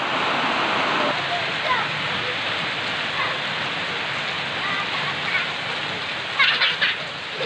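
Steady rain pouring down outdoors, a dense continuous hiss of drops on surfaces throughout, with a voice and an adult talking faintly in the background.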